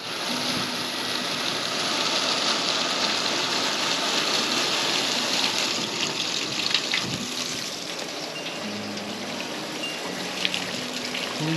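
Steady rushing and trickling rainwater runs continuously at moderate volume through a house roof gutter, with faint dripping and a low hum beneath.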